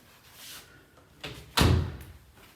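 A coat closet door in a Silverdale house closes with a light knock followed by a firmer thud, two close, brief impacts over a quiet room.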